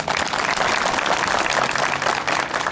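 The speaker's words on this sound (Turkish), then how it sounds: "bir alkış da onlar için rica ediyoruz" Audience applause at a land title deed distribution ceremony in a Turkish village, a dense continuous round of clapping from a crowd, moderately loud and steady.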